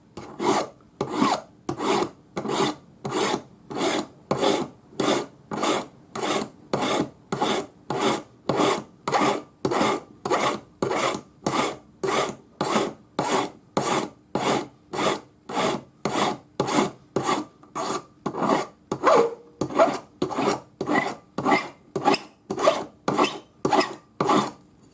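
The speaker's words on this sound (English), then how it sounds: "we want to file this before we anneal it again" A metal spiral pendant is hand-filed while the metal is still hard, giving steady, evenly paced rasping strokes that repeat for the whole stretch, close and clear, with no talking.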